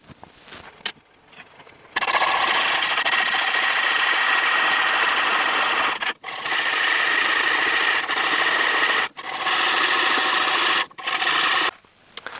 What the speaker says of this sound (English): Turning at 250 RPM, really slow.